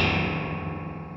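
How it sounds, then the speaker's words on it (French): A guitar pedal with real springs is deliberately knocked or triggered through a heavily driven preamp. It gives a dense, distorted, sustained wash that rings on alone and slowly fades. "j'ai fait exprès d'activer les ressorts"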